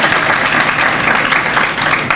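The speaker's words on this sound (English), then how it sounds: "Let's give them another round of applause." Loud, continuous applause from the audience at a youth tech graduation ceremony, a dense wash of clapping hands throughout with no pause.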